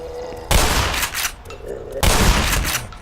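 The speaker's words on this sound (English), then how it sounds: "It is very, very satisfying to shoot things with your shotgun." Two loud, booming shotgun blasts in the shooter Black Mesa, each followed by a short rumbling tail, the second about a second and a half after the first.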